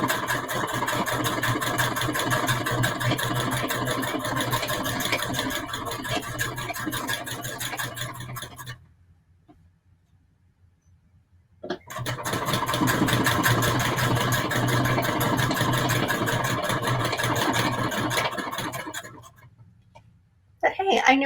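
A sewing machine runs at a steady, even buzz for about nine seconds, falls quiet for a few seconds, then starts again and runs another stretch before stopping.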